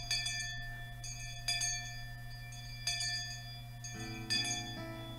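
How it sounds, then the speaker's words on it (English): A bell chimes in the video game Higurashi no Naku Koro ni Hou, several clear ringing strikes with long sustained tones that overlap and linger, against a quiet steady background hum. "there's that bell again"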